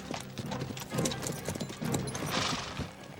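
Horse hooves clip-clop in a steady rhythm at close range, with a faint whinny and some background noise, no talking.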